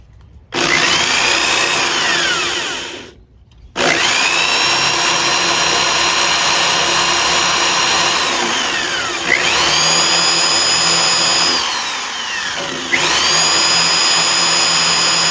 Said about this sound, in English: I guess we'll continue drilling it.